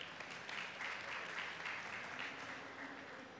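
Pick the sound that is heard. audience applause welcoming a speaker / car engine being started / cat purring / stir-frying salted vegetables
audience applause welcoming a speaker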